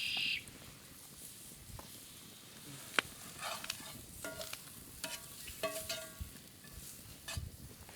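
Vegetables go into a frying pan for trout coubion, sizzling and hissing with clattering stirs and sharp utensil knocks against the pan, close by, with no talk.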